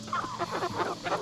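Backyard chickens and a rooster at a small woodland homestead cluck and call in quick overlapping bursts, close by and fairly loud.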